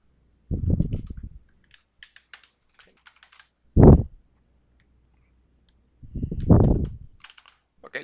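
A computer keyboard is used to type Java code, with a few short bursts of soft tapping and clicking separated by quiet gaps, heard close and alone.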